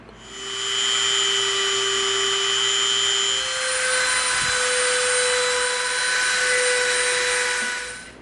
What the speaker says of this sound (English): Now we know exactly where we need to Dremel out our trench, so we're going to get our Dremel out